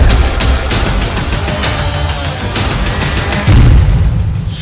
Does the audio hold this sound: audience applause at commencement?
no